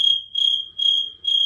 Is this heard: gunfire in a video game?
no